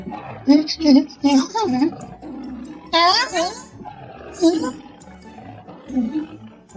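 A lion in an animated story roars loudly several times in a row, growling bursts with snarling rises, one especially strong in the middle, mixed with narration that runs alongside.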